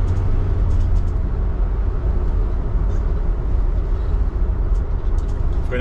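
A 1968 Ford Galaxie 500 convertible on the road, with a continuous loud low engine rumble and wind and road noise running steadily throughout at close range.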